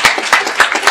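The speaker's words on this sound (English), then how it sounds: "Can we give OTBA another round of applause for their courageous leadership?" Enthusiastic applause from an audience at a community gathering, dense rapid clapping throughout with brief louder bursts, no talking over it.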